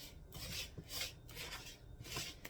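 A small whisk stirs a homemade spice blend in soft, rhythmic scraping strokes, about four sweeps, faint and close with no voices.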